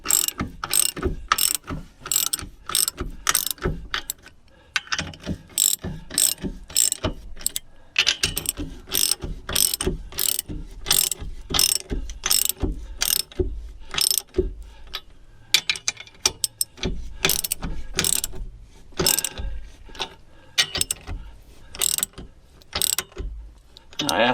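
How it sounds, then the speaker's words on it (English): A ratchet wrench tightening the locking nuts on an RV travel trailer leaf spring, with rapid, loud, close metallic clicking in repeated bursts and brief pauses between strokes. "just tighten them down tight, that they are locking nuts"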